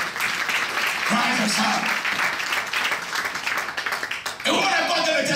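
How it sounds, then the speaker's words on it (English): A church congregation claps in sustained, dense applause, with a preacher speaking loudly over it throughout. "Clap for Jesus tonight."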